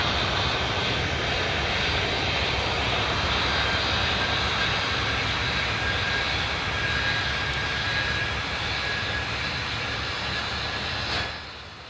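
An airliner in the Tower Simulator 3 game rolls for takeoff, a continuous loud, dense jet engine rumble that holds steady and then drops off sharply near the end, with no voices.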